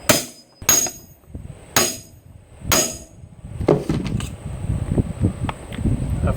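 Four sharp, ringing metallic hammer strikes on a bearing race in a 1966 Ford Bronco Dana 20 transfer case land about a second apart, followed by quicker, duller taps and clatter as the part seats.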